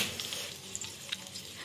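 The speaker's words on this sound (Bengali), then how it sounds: "রসুনটাকে ভালো করে ভাজতে হবে," Garlic frying in a pan for garlic noodles, a soft, steady sizzle with faint crackles and small pops scattered throughout, fairly quiet and close.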